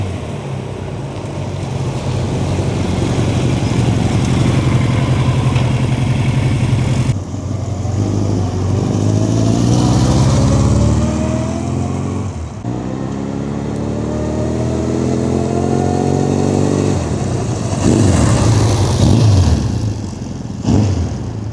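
A 1978 Suzuki GS1000 motorcycle engine runs steadily close by, a continuous throbbing idle with several rising revs that climb and settle, loud throughout with no talking.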